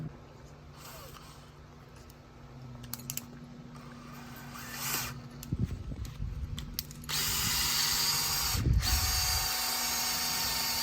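A drill bores through a tree stem to make a passage for EHS steel support cable, heard as bursts of grinding and whirring that grow louder and steadier in the second half, close by with no talk.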